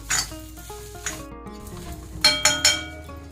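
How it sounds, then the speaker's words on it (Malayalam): Chicken curry masala sizzles steadily in a pan while it is stir-fried, with a few sharp spatula clinks against the metal near the end and a faint musical tone underneath. "ഇത് നന്നായിട്ട് നമുക്ക് വറുത്തെടുക്കാം."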